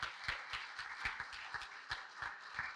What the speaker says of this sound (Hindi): ज़ोरदार तालियों से इस्तकबाल कीजिए मोहतरम जनाब डॉक्टर आसिफ महमूद जाह